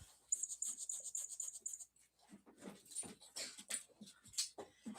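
Two puppies whimper and whine in high, thin repeated cries, with soft panting and small squeaks close by, and no talking over them.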